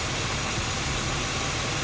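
A BMW E36 328i engine idling smoothly just after an oil change, a steady close low-frequency rumble with even vibration and no talk.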